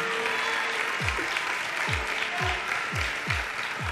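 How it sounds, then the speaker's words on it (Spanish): Crowd applause at a televised talent show fills the hall as a continuous, even clatter of hands, with a series of low thumping beats repeating underneath about every half second. "Gracias por sus aplausos"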